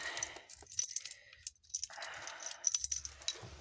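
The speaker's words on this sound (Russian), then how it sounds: "ставим ключик." Car keys jangle and clink as the ignition key goes into a VAZ-2101 on a frosty minus-20 morning, a few close, bright metallic rattles in short bursts with quiet gaps between.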